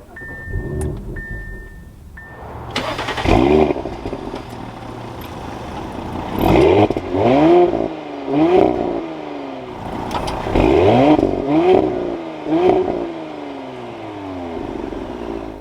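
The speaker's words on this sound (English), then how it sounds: "keeping my foot on the brake, we can go ahead and fire it up" A 2021 Audi SQ5 Premium Plus engine cranks and fires up after a brief chime, then revs in a series of loud, close throttle blips that rise and fall repeatedly before settling to idle.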